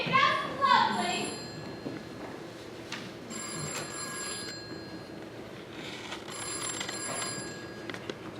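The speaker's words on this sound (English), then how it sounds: "I have to answer the phone." A telephone bell rings in bursts on a high school stage during a drama production of Harvey, several separated ringing spells sounding clear above a steady room murmur, with a voice briefly heard at the start.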